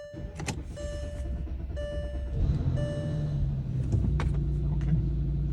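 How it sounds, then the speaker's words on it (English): Porsche Cayenne 957 engine cranking and starting after a high pressure fuel pump replacement, a short whir followed by a steady close rumble that settles into a smooth idle, with a few faint electronic beeps over it. "And let's start the car and see what happens."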